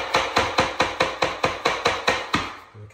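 A tapping block knocks a laminate flooring plank into place, nine sharp, evenly spaced wooden strikes at close range, each with a short ringing decay, followed by a brief muffled thump.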